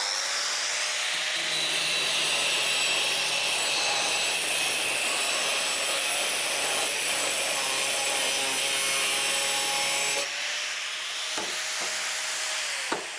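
An angle grinder fitted with a cutting disc slices through thick steel rebar, giving a loud continuous abrasive whine and grinding that holds steady for about ten seconds before the cut ends and the motor runs on more freely.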